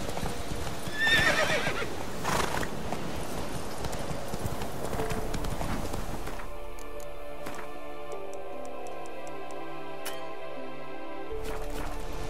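Hooves of the horse Roach clip-clop rapidly through The Witcher 3 game world, with a whinny early on, then the galloping gives way to a quieter stretch of regular ticking and sparse clicks.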